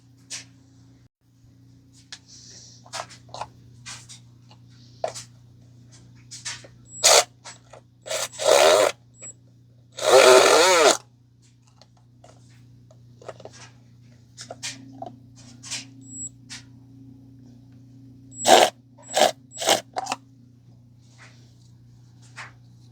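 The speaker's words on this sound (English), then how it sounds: "you can use a wire brush just to clean the surface down if there's any major surface rust" A wire brush scrubs surface rust off a Toyota Corolla front wheel bearing surface in a few short, rasping scraping bursts separated by quiet gaps, over a low steady hum.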